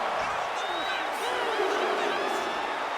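Arena crowd in the WWE 2K25 wrestling game at a castle event, a dense, steady roar of cheering and whooping that holds throughout, moderately loud.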